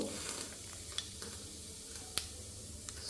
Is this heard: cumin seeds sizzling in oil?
yes